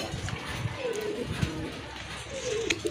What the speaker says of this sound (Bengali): এই যে এখানে এক জোড়া কবুতর আছে, লাহোরি কবুতর, অনেক বড় সাইজের কবুতর